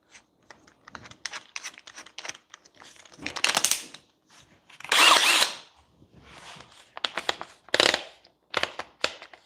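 Cordless power drill with clutch set low driving pocket hole screws into a wooden board, several short whirring bursts separated by pauses and handling clicks, close and fairly loud.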